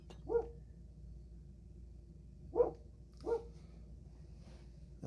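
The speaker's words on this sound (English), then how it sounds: "if you can hear the barking, please ignore that. There are dogs outside right now." A Labrador barks outside, heard from indoors at a distance. Three short, faint barks come separately, two of them close together near the end, over a quiet background.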